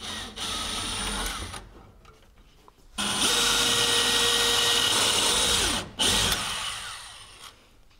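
A nearly new power drill runs in two loud bursts, drilling through the steel of a Zenith CH 750 CruZer kit aircraft fuselage join, with a short pause between them and no talking.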